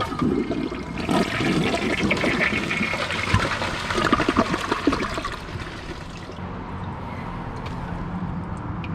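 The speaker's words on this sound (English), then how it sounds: "Let's see how it flushes." A toilet flushes with a strong rushing surge of water that gradually eases into a quieter trickle as the tank refills; no talking.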